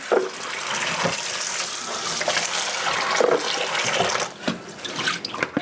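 Water runs steadily from a kitchen sink tap for several seconds, a continuous close splashing wash with small shifts in flow as dishes or food are rinsed under it.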